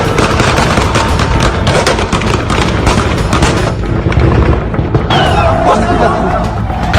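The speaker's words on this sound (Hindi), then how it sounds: "हजारों राउंड्स की फायरिंग काबुल में हुई" Gunfire in Kabul, with thousands of rounds fired, sounds as loud, dense, continuous crackling bursts of shots that fill the whole stretch, with a voice faintly present underneath.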